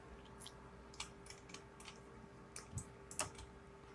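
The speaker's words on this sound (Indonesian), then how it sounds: "tekan tombol L" Keyboard keys are pressed in Blender 3D software: a handful of quiet, sharp clicks at irregular intervals over a faint hum, close to the microphone and with no speech.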